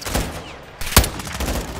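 Gunfire in Call of Duty Modern Warfare II on PS5, with a sharp, loud shot standing out among scattered bursts of weapon fire in a firefight.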